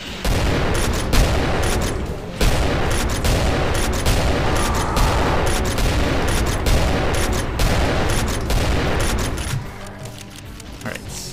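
Continuous dense gunfire from a hitscan enemy in a Doom mod, a loud unbroken barrage of rapid shots and booms that thins out near the end, with a voice speaking over it.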